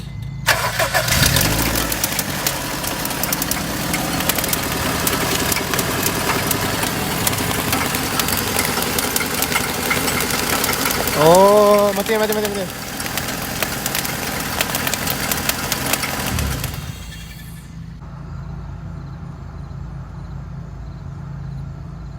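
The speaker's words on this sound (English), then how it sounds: "This car is making some weird noises." A 2001 Honda Civic with a 1.7-liter non-VTEC engine and a bad serpentine belt runs loudly with a rough, rattly whine and a brief squeal partway through before it cuts off abruptly, leaving a low hum, with one short spoken exclamation.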